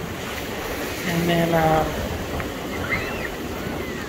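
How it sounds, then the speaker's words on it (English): Ocean surf rolling onto the beach at Gulf Shores, Alabama, with big waves running; a steady, close wash of breaking water fills the whole stretch while a person briefly talks over it. "we can't get very far out in the water until the big waves are over with"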